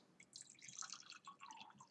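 Water poured into a glass, a close, bright trickle of rapid drips and splashes that rises and falls over a couple of seconds with no talking.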